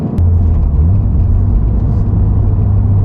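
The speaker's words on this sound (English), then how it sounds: "Getting a little better at the downshifts." A 2022 Subaru BRZ on coilovers: a loud, steady engine drone with a deep rumble that holds fairly even through the downshifts, with no voices.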